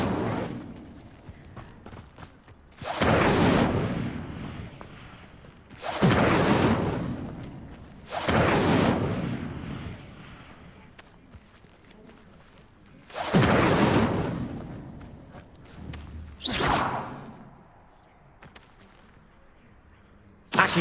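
The Incendio fire spell in Hogwarts Legacy is cast again and again, about six roaring bursts of flame, each a loud whooshing blast that fades before the next, separated by quieter lulls.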